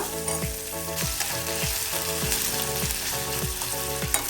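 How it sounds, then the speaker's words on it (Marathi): Onions frying in a pan, a dense, loud, steady sizzle with repeated rhythmic scraping strokes of stirring, close and uninterrupted by voices. "कांदा आपण छान परतून घेऊया"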